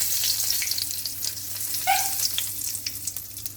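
Whole spices, including bay leaf, small chilies and nigella seeds, frying in oil for a fish curry: a steady close sizzle with faint crackles and a brief utensil clink.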